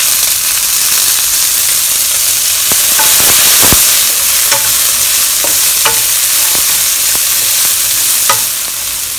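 Bean sprouts and spring onion stir-frying in a hot wok for Hong Kong style ramen noodles, with a steady loud sizzle and hiss and occasional sharp clicks of a spatula scraping the pan.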